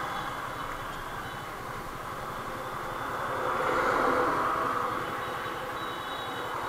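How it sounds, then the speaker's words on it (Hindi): Railway station ambience at Ludhiana, India, with a train's rumble and rolling noise filling the background steadily and swelling briefly louder midway, no voices prominent. "यह लुधियाना का रेलवे स्टेशन"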